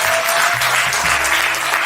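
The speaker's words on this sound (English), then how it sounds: "Let's give a round of applause for that" A crowd applauds steadily at a fashion show, a dense wash of clapping that stays loud for the whole brief moment.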